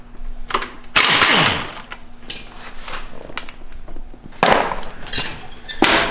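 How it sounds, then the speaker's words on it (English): An impact wrench rattles off bolts during a Cummins engine teardown on a first-generation truck, firing in loud bursts near the start, in the middle and again at the end, with clanks and shop noise between. "I love the sound of these wrenches"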